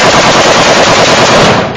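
Full-auto gunfire at an outdoor shooting range: one loud, continuous burst of rapid shots lasting nearly two seconds, close to the microphone, then ending abruptly.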